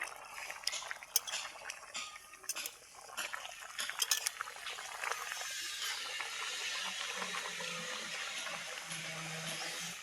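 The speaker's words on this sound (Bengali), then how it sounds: "আমাদের বাড়িতে মিস্ত্রি কাজ করতেছে, তাই একটু শব্দ হচ্ছে।" Construction work inside a house: a run of sharp metallic clicks, clanks and scraping knocks, irregular and moderately close, giving way to a steadier mechanical hiss and hum.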